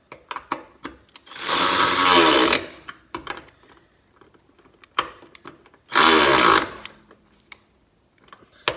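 A power tool tightens suspension bolts on a Mazda Miata, whirring loudly in two bursts of about a second and a half each, with scattered metallic clinks and handling noises between them.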